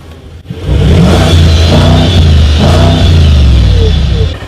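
A massive coupé's engine roars loudly and steadily, a deep rumbling drone revving up and holding for several seconds close by.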